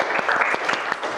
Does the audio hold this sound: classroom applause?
yes